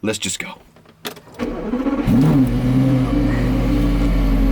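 A Porsche Carrera GT fires up after a few clunks and mechanical clicks, its engine catching around two seconds in and settling into a loud, steady idle rumble close by, with a voice heard briefly at the start.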